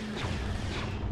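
Dense, continuous battle noise from Star Wars Alliance of the Rebellion, an Empire campaign in which the player fires on their own units: rumbling blasts and crackling fire packed together across a short, steady burst.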